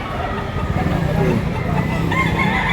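A Golden Boy cross rooster crows at a busy chicken market in Lipa, Batangas, loud and close over other fowl clucking, traffic noise and people talking nearby.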